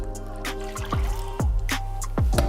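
Beef broth is poured into a crockpot for beef and broccoli. Close, loud splashes and drips land in uneven bursts over a steady low background hum.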